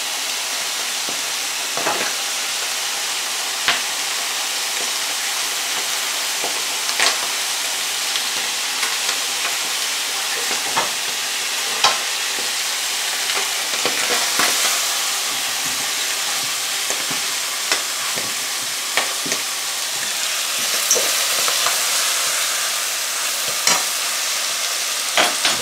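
Chicken meat frying in a pan gives a steady, loud sizzle and hiss throughout, broken by frequent sharp pops and occasional stirring scrapes. No voices are heard over the long cooking stretch.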